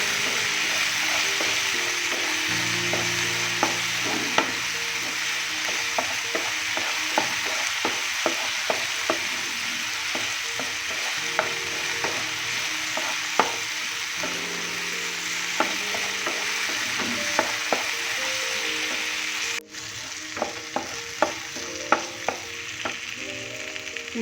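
Masala poha with turmeric and biryani masala being stirred in a frying pan, a steady sizzle with repeated spoon scrapes and taps against the pan throughout, close and alone without talk.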